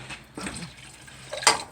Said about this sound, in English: about that much water, just a little bit of water.